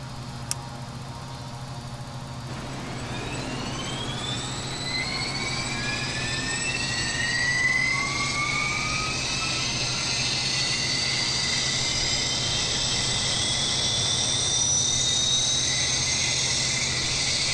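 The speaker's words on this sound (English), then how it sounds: "Start right engine." The right engine of a Jetstream 41 turboprop starts up in a flight simulator game, a whining turbine tone rising in pitch and building into a steady, loud roar over a constant cockpit hum.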